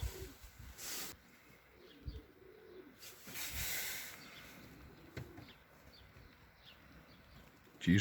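Soft, low pigeon coos come and go against steady heavy-rain background noise as racing pigeons return from a race, with a few faint chirps and a brief louder burst near the end.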